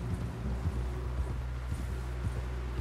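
Faint, evenly paced horse hoofbeats clip-clopping in the Red Dead Redemption 2 video game, sitting low under a steady humming background drone.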